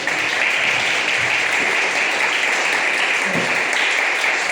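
A church congregation claps together in steady, dense applause, continuous and fairly loud across the whole stretch, with only faint background murmur.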